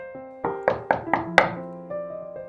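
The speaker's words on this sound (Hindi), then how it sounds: "जो ही रात हुई घर के दरवाजे पे दस्तक हुई।" Knocking on a house door at night: four or five sharp, evenly spaced raps close by, set over a sustained musical bed.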